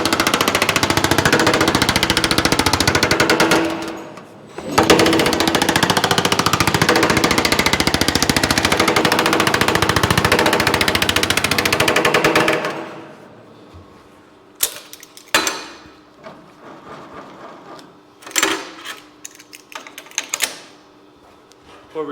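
A metal shrinking machine pounds sheet metal in a loud, dense run of rapid hammering for about twelve seconds, pausing briefly once, then falls to scattered shorter bursts and clanks.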